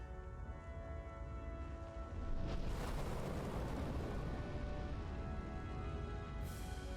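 Fire and an eruption rumble in a land of brimstone and swirling ash, heard in the video game Tales of Arise: a low continuous roar that swells into a louder, fuller rumble about two seconds in and holds steady to the end.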